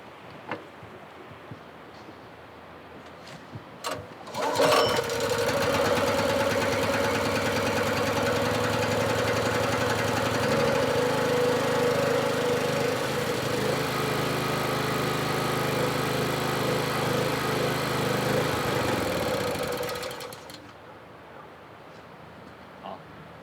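With the choke set, a small engine catches after a few faint knocks, then runs with a steady, loud, buzzing drone for about fifteen seconds before cutting out abruptly.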